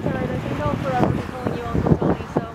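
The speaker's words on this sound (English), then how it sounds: "Hopefully you guys can still hear me because it's rather windy." Strong wind at a beach buffets the microphone in rumbling gusts, with faint speech-like sounds underneath and surges of noise toward the end.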